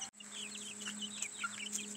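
Barred Rock and Asian Black chickens cluck and chirp softly nearby, a quiet run of short calls over a faint steady hum.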